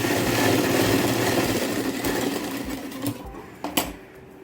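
A sewing machine runs steadily while stitching blouse cloth, its fast, even mechanical whir filling the clip before slowing and stopping near the end with a few sharp clicks.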